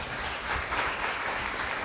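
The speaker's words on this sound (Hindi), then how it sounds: "बाजू वाले ताली तो बजाओ।" A church congregation claps steadily, a dense, even patter of many hands that continues without a break.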